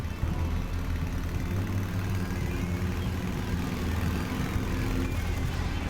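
A motorbike engine in the horror game The Path, a constant rough, rumbling drone that stays steady and fairly loud throughout, with no talk over it.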